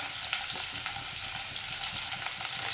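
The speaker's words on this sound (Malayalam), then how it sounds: "ഇതിലേക്ക് നമുക്ക് 2 ടേബിൾ സ്പൂൺ വെളുത്തുള്ളി ചെറുതായിട്ട് മുറിച്ചത് ഇട്ട് കൊടുക്കാം." Chopped garlic sizzles in hot oil in a kadai, a steady close crackle and hiss with small pops running throughout, no talking over it.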